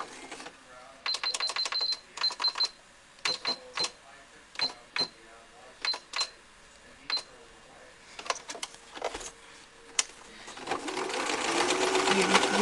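Sewing machine stitching a towel hood in quick bursts of rapid needle clatter separated by short pauses, ending in a longer continuous run, close and clear.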